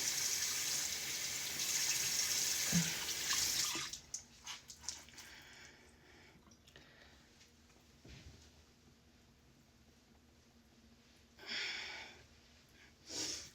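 Running water pours and splashes near the basin while washing a face, followed by quieter dripping and occasional splashes, with brief louder bursts of water near the end.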